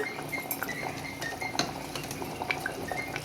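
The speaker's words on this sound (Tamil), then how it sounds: "சேர்த்து கிண்டி விட்டு மூடிடுவோம்" A spoon scrapes and clinks against a pressure cooker while yogurt is stirred into biryani, giving irregular metallic taps over a soft, continuous wet churning, close and moderately quiet.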